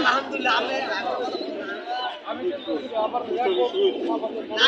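Pigeons at a busy outdoor pigeon market in Bangladesh, including red-geared green-necked birds, coo and murmur steadily beneath continuous nearby talk and crowd chatter.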